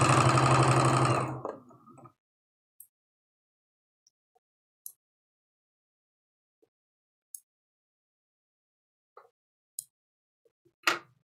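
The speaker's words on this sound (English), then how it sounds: "I'm just going to stay right here at the sewing machine and join everything together" A sewing machine stitches quilt block pieces together in a fast, loud whirring burst lasting under two seconds, then falls silent apart from a few faint, scattered clicks and taps.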